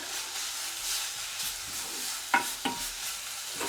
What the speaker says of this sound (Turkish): Tereyağını da koyalım. Yağımız erimeye başladı.